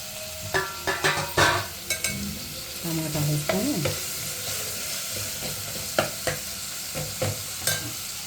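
Tomatoes frying in a pan for eggplant curry (vankaya pulusu), a steady sizzle broken by repeated scraping and stirring strokes and occasional clinks of the spoon against the pan, close up with no talking.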